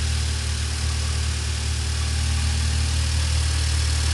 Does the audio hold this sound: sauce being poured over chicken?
no